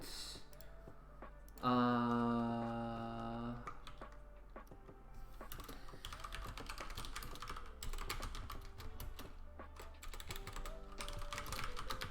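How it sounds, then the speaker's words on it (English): Keys on a computer keyboard are tapped in quick, irregular bursts, close and fairly quiet, continuing after a short sustained tone near the start. "I'm typing a message right now"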